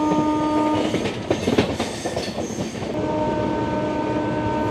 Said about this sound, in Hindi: देखते हैं दोस्तों ये कौन सी ट्रेन है, कोई पैसेंजर लग रही है